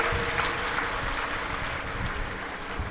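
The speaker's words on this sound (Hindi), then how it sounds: "एक बार जोरदार ताली बजाकर" A large audience at a Shiv Mahapuran religious gathering claps loudly and steadily in welcome, a dense, continuous wash of applause with no break.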